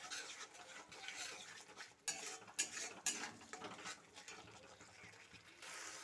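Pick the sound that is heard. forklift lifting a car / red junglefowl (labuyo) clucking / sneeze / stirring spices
stirring spices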